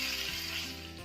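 Vegetables, chicken, egg and prawn sizzle in a hot pan for fried rice, a close, continuous hiss of frying with slight stirring movement.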